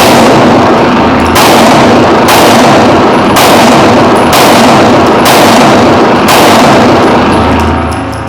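Rifle gunfire at a shooting range, six or seven very loud booming shots about one second apart, each followed by a rolling echo, with no talking.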